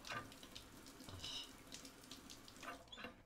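Shower water running steadily in the Mars survival game Stationeers, a continuous hiss of flowing water with no talk.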